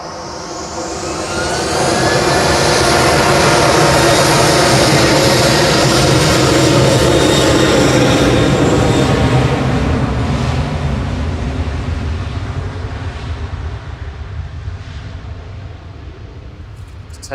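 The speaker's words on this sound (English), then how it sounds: "Ryanair's GRUKI just spooling up, going to Budapest with flight 8358" A Ryanair jet at Manchester Airport spools up for takeoff to Budapest, with a whine that climbs in pitch and then swells into a loud, sustained roar that slowly fades as it pulls away.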